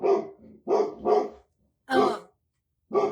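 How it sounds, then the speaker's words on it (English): Dogs bark in short loud bursts at someone at the front door, several sharp barks with gaps between, close by and with no voices. "The dogs are going to go just mad while somebody's trying to stand at the front door"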